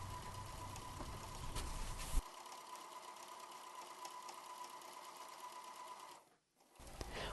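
Sewing machine stitching quilt swirls, a fast steady mechanical whir and rattle that shifts tone partway through, then briefly cuts out and restarts near the end, close and continuous.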